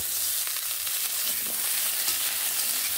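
Cauliflower florets fry in oil in a pan while cooking veg dal, giving a steady, close, loud sizzle with faint stirring and no talk.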